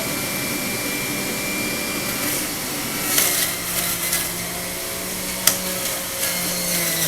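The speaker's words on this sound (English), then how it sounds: "Push that right through the machine." An Omega VRT350 juicer processes clumps of stemmed grapes pushed through the machine, giving a steady motorized whir with a low droning hum and a few brief crunching clicks, close and continuous with no talking.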